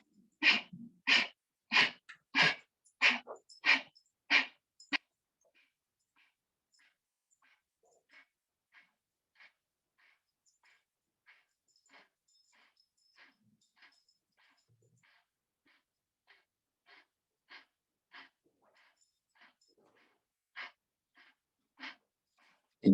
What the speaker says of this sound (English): And do Kapalbhati for 30 seconds.